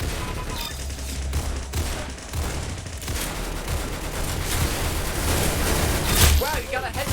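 Rapid bursts of gunfire in a first-person shooting video game, dense overlapping shots and booms filling the whole stretch, with a player's voice heard over the action near the end.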